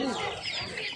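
Chicks for sale at a bazaar in Asaka, Andijan, chirp and cluck in a brief, faint burst of high calls beside quiet voices.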